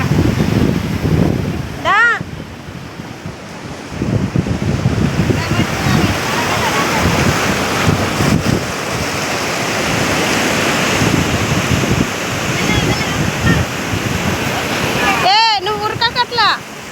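Sea waves rolling onto a beach during a family outing, a continuous wash of surf and wind buffeting the microphone, with brief sharp chirps near the start and end.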